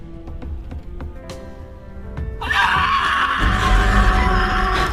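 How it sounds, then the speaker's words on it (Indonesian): An anime character screams loudly and sustained, breaking in after a few light taps and bangs. Heavy, harsh low rumble swells beneath the scream toward the end. "saat Nopperabo melihat Asirpa, justru dia malah berteriak kencang"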